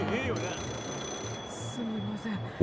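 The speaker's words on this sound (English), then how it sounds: "Is that a phone ringing?" A payphone rings in Yakuza 0 on a street, repeated electronic ringing bursts mixed with game background sounds and a voice talking faintly underneath.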